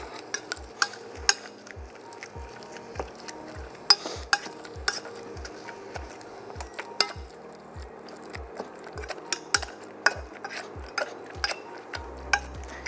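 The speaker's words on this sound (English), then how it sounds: "And now we're just going to go ahead and get our potato masher here" A potato masher pushes steadily into blueberries, strawberries or raspberries in a pot. It makes quick, regular soft squishing thumps, about two or three a second, near and fairly quiet, with no talking.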